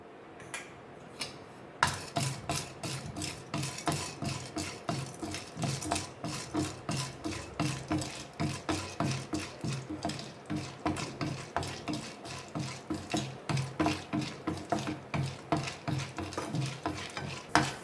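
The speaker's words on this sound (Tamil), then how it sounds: "எண்ணெய் காஞ்சதும் கடலப்பருப்பை வந்து வறுத்துக்கலாம்." Chana dal roasting in hot sesame oil in a kadai for onion chutney, stirred steadily with a ladle: continuous close scraping and rasping strokes in a regular rhythm over a faint sizzle, with no talk.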